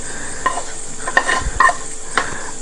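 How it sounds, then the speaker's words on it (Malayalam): Fried prawns tipped into a hot pan sizzle softly while a utensil scrapes and stirs in a few distinct strokes, close and clear with no talking. "നമ്മൾ പ്രോൺസ് വറുത്തത് നമ്മൾ ഇതിനകത്തോട്ട് ഇടുക"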